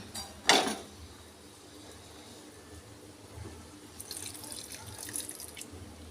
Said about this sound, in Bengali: এই যে গরম জল একটু গরম জল দেব